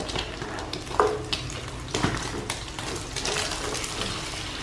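An egg frying in a pan for a fish-sauce fried egg dish, just flipped with a spatula. It gives a steady, soft crackling sizzle with a couple of light scraping clinks from the utensil.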